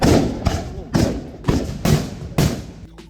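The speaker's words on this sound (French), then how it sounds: "C'est des tirs de canon, mais dans des pistolets quoi." Volley of matchlock guns fired in a historical demonstration at Osaka Castle: five sharp, loud blasts at roughly half-second intervals, each cracking out and decaying into a brief rumble.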